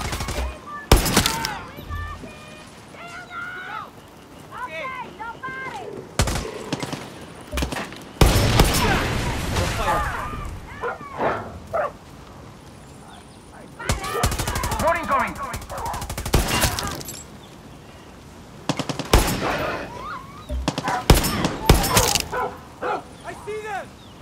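Far Cry 6 combat brings loud bursts of machine gun fire and gunshots mixed with dog barks and yips, coming in irregular clusters between stretches of people talking.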